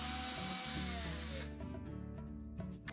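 A power drill spins loudly while removing the retaining screws of a flume from the back of a GE washer, whining steadily then cutting to quieter clicks and rattles.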